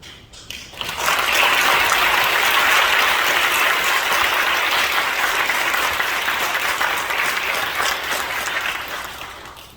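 A church congregation gives loud applause welcoming the district chair during an ordination service, a dense, steady wall of clapping that swells quickly and holds for several seconds before tapering off.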